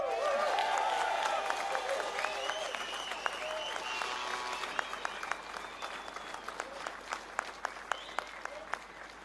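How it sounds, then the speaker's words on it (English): An outdoor crowd at a British farmers' protest in central London breaks into loud applause and cheering that gradually thins into scattered individual claps, with shouting voices early on. "Another big round of applause for Ollie there"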